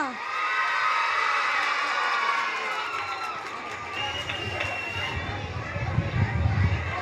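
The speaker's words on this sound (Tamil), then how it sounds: "அசத்தலாக அற்புதமாக நடனமாடிய குழந்தைகளுக்கு ஒரு கைத்தட்டல் கொடுக்கலாமா?" Applause with cheering and whoops from a crowd at a school performance of LKG children dancing, loud and dense throughout, mixed with children's voices and chatter near the end.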